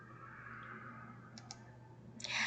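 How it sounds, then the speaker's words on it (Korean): A mouse click on the Next button of a Windows backup wizard, heard as a few short, faint clicks over a quiet hum, ending in a brief louder burst. "선택을 하셨으면 아래쪽에 다음 버튼을 클릭합니다."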